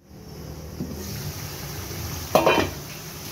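Chicken achari masala fries in a pan, a soft steady sizzle with a brief burst of scraping and clatter as it is stirred partway through.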